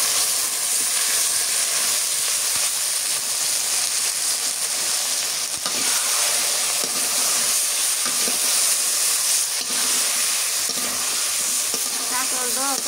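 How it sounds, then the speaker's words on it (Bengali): Teasel gourd (kakrol) fries in oil in a pan in a rural kitchen, making a loud, continuous hissing sizzle with stirring and scraping all the way through. "কাঁকরোলটা তেলানিতে একটু ভেজে নিই"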